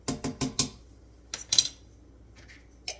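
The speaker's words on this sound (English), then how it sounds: "we'll stir that up" A spoon stirring ranch dressing into cream cheese, a few quick scraping clinks against a bowl at first, then a pause and two more brief scrapes, close and dry.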